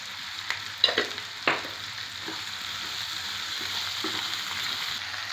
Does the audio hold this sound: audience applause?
no